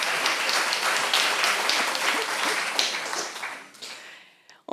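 Audience applause for a panel at a round-table event on invisible disabilities in Lyon, a full, lively patter of many hands that carries on steadily, then thins and fades out toward the end.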